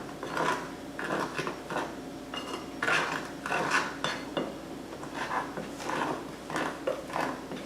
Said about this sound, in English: Now I'm going to mix it with my spoon.